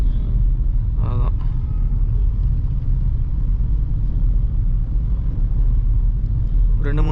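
Steady low rumble of Bengaluru road traffic heard from inside a Nissan Magnite Turbo CVT, a constant muffled engine and road drone with brief horn-like tones near the start and end; someone speaks over it.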